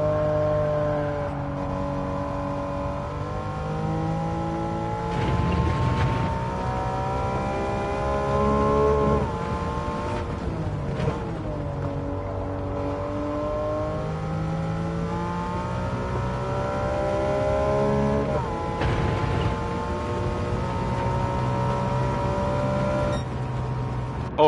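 A Porsche Cup race car engine in Gran Turismo 7 revs and wails continuously, its pitch climbing through gears and dropping sharply at shifts and corners, loud and close with no talk.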